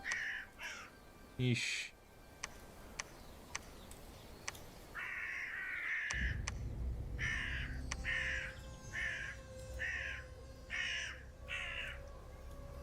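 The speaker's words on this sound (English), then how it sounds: "nice crow sounds in your ear" Several harsh crow caws ring out in the strategy game Dominions 6, first sparse, then as a rapid string of calls over a low rumbling ambience; a voice mutters briefly.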